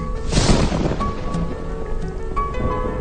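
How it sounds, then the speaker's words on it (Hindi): A rainstorm with a deep rumble of thunder near the start, followed by steady heavy rain pouring without voices. "हे बारिश बरस बरस और बरस।"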